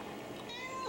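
A kitten gives a brief, faint meow at the end of a quiet moment indoors, heard alone without talking.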